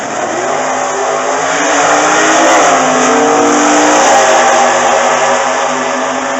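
A 1969 Camaro Super Stock drag race car, an automatic and the winningest single vehicle in NHRA history, runs loud and steady at a sportsman qualifying event, its engine a continuous close roar that swells slightly midway with no talk over it.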